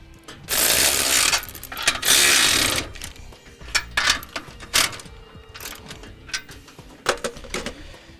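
Hex nuts are tightened onto a galvanized U-bolt for a boat trailer bracket with a ratcheting wrench, giving two long bursts of rapid clicking followed by scattered short ratchet clicks and metallic taps.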